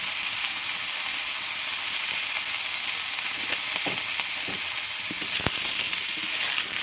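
Eggplant and onion sizzle in a salted pan, a steady close frying hiss with a few soft stirring knocks scattered through the second half.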